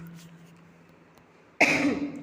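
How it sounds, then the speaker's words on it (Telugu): A single loud cough from a person with a cold bursts out near the end after a quiet stretch, close and sharp. "కొంచెం జలుబు దగ్గుగా ఉందండి అడ్జస్ట్ చేసుకోండి"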